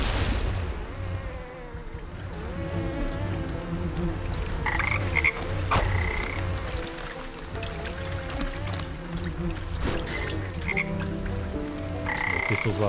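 Frog croaking in the video game Wytchwood, repeated throaty croaks over a steady buzzing outdoor ambience with insect-like hum, alone and fairly loud throughout.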